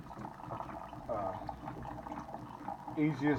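Keurig coffee machine dispensing an 8-ounce serving of hot water: a low, bubbling pour and gurgle of liquid filling a cup, with a voice talking over it.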